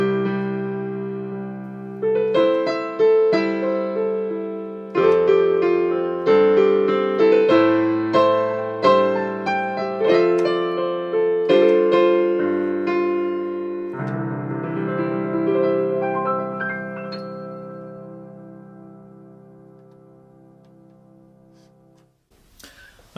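Two Yamaha digital pianos, a P115 and a P255, played in turn with chords and melodic runs, steady and close, then a final sustained chord that fades away alone.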